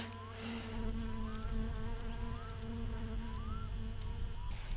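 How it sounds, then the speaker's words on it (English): A mosquito in the My Summer Car game, a thin, wavering high-pitched whine that drifts up and down in pitch over a continuous low hum, steady and alone for several seconds. "please can we just get rid of this mosquito sound?"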